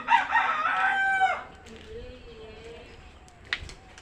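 Chickens in a small covered backyard coop in the early morning, with a loud burst of crowing and clucking at the start, then quieter scattered calls and faint rustling.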